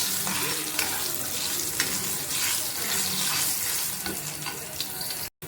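Chopped onions and curry leaves fry toward deep brown in hot oil, making a loud, dense sizzle that runs steadily throughout before cutting off abruptly near the end.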